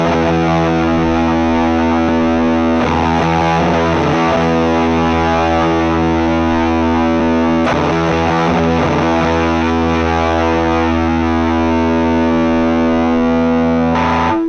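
An electric guitar plays through a distortion effect in Ableton Live, with thick sustained distorted chords ringing continuously and loudly for the whole stretch, punctuated by a few fresh strums.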